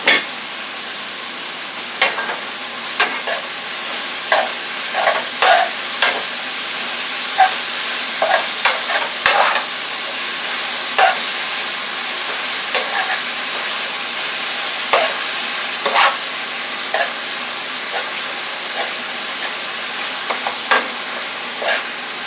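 Stuffed bell pepper filling mixture cooking in a pan, a continuous sizzle broken by repeated spoon scrapes and clatters as it is stirred, close and fairly loud, with no talking.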